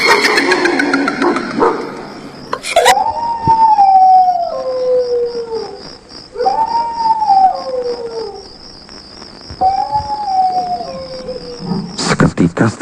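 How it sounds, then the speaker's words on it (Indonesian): A dog howls in long, drawn-out wails, three separate howls rising and falling over a steady high insect-like drone at night, with some clattering and noise at the start and end. "Seketika setelah suara lolongan anjing itu menghilang"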